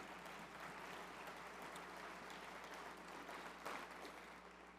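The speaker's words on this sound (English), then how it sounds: "So how about a round of applause for that?" Audience round of applause at an event, even continuous clapping heard from a distance at low volume, with a faint steady hum underneath.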